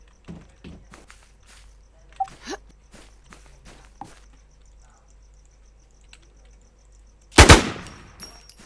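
Video game gunfire: one loud, sharp burst of shots lands near the end, after several seconds of faint scattered clicks and taps, with no talking.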